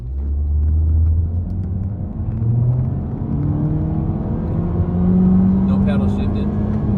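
A 2025 Honda Civic in Boost Blue Pearl pulls hard from a standstill, its engine droning loud and close from inside the cabin as the pitch climbs steadily through each gear, with a brief lull at a shift.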